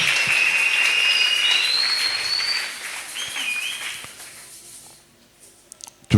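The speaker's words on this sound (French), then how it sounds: "Acclamez encore le Seigneur." Congregation applauding and cheering at a wedding blessing in church, a dense wash of clapping with high whoops and shouts that fills the first few seconds, then thins out and fades to near quiet with a few scattered claps at the end.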